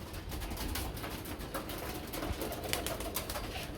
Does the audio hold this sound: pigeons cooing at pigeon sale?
yes